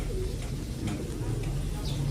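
A checkered, medium-size pigeon coos softly in low, throaty notes beneath someone talking nearby.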